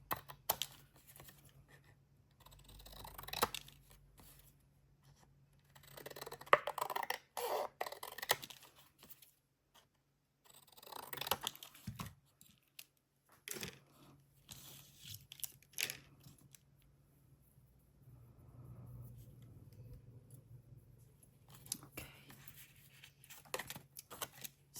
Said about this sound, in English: Going to fussy cut it out now.